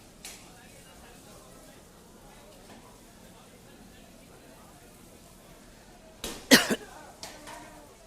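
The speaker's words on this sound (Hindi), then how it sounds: "इतना धुआं है आसपास कि वहाँ लोग खांस रहे हैं इस वक्त" Coughing erupts at a railway station where four coaches of the Korba Express parked at a platform in Visakhapatnam are on fire: a short burst of loud coughs near the end, after a long quiet stretch of faint background murmur.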